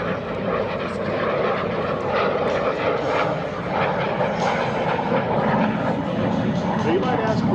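A Lockheed T-33 Shooting Star jet flies at the EAA AirVenture 2025 airshow, its engine a sustained broad roar that stays steady and fairly loud, heard under an announcer's voice.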